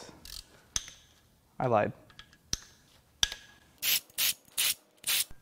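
Hand ratchet working on the head bolts of a Volkswagen 2.0L TSI EA888 engine during a teardown, with sharp clicks and several short rapid ratcheting bursts up close and a brief spoken remark.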